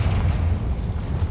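A Confringo fire spell bursts in Hogwarts Legacy as one deep booming explosion with a rumbling low roar that fills the short moment, loud and close with no voices.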